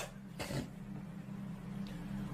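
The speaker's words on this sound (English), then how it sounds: "Bro coughed like an iPad kid." A single short cough bursts out once near the start, close and fairly sharp, followed by quiet background hum.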